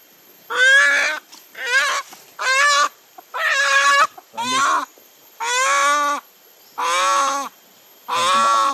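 A white chicken gives eight loud, close calls in separate bursts, each about half a second to a second long, with short quiet gaps between them.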